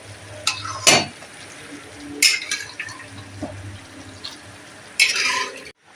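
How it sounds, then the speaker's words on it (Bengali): Peas being added to fried spice masala for ghugni and stirred in a pan, with a few sharp scraping stirs and a soft sizzle beneath. "এরকম অবস্থায় আমি মটরগুলো দিয়ে দেব"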